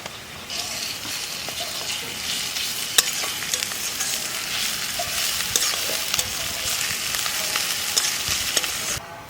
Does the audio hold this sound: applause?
no